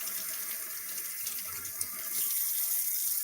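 Cold water running from a kitchen tap over potatoes being rinsed, a steady close hiss of flowing water that swells slightly louder toward the end, alone without talk.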